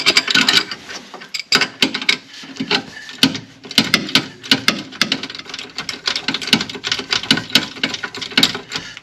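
A ratchet turning a bolt on a Mitsubishi Outlander Sport gives rapid, irregular clicking close up, with bursts of clicks and short pauses and no talking.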